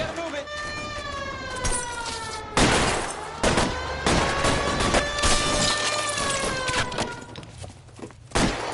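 Police sirens wailing in L.A. Noire as cops arrive, loud rising and falling tones mixed with heavy gunfire bursts, thuds and shouting voices.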